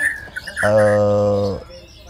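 A pet white-rumped shama (murai batu) gives a single clear, sustained whistled note lasting about a second, close and loud, with faint background sounds before and after.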